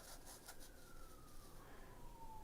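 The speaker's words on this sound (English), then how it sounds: "Siren going on outside." A faint siren drifts in the distance, its wailing tone sliding slowly downward over a low, steady background hum.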